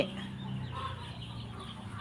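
Chickens of a Mahanakhon crossed with Ko Sem breed cluck softly and steadily at close range, a continuous low murmur of fowl with no talking.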